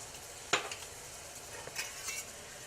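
Shrimp searing in a pan with five-spice seasoning, a quiet steady sizzle broken by a sharp utensil scrape and a few light clinks of stirring; no talking.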